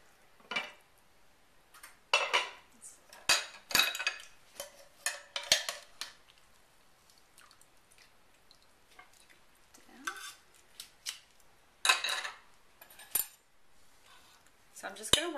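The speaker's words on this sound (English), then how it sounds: "So I'm just going to work on shredding it with a fork." A fork shredding slow-cooked Italian beef, irregular scraping and clinking bursts against the dish, close by, with a voice talking between them.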